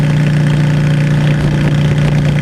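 A motorcycle engine hums steadily and loudly while riding, a constant droning note with wind-like noise over it, close and unbroken, without talk.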